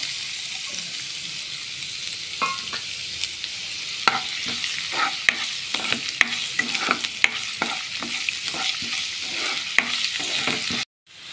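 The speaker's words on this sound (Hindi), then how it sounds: "आनी लसूण बारीक कातोलो ती घालता आनी आलें कातोलो तें घालता आनी तें मातशें फ्राय करता" Chopped garlic and ginger fry in a pan for sweet and sour prawns, a steady close sizzle broken by regular scraping stirs, cutting off abruptly at the end.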